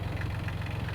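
Tractor engine running steadily while pulling a 6-foot leveling blade across broken sod, a low, even rumble with a faint knocking throb, fairly quiet and continuous, no voices.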